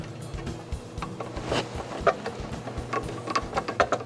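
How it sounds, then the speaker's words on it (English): Cable being secured with a cable clamp on a rotary phase converter, heard as a series of small metallic clicks and ratcheting ticks at close range, irregular and fairly quiet. "Then we're going to secure the cable with the cable clamp."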